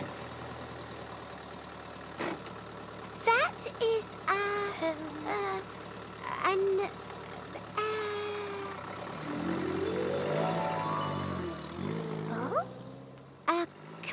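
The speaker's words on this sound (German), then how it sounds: "das ist das Geräusch eines Autos." A cartoon car engine idles and then pulls away, the motor rising and fading over several seconds, with children's and adults' voices speaking over and around it.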